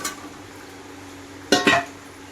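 Fried potatoes tipped into a pot of cooking meat, giving two quick close clatters of metal against the pot over a faint low background hum.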